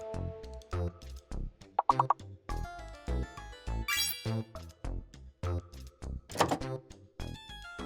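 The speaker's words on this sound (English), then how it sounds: "I'm just typing random shit at this point." Keyboard typing in bursts of sharp, irregular clicks and clacks, close and fairly quiet, with musical tones and game sounds overlapping at times.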